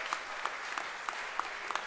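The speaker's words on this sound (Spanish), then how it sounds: "Denle un aplauso al Señor" Faint, steady applause from a church congregation, a soft continuous patter of clapping with a few sharper claps standing out, heard from some distance at low level.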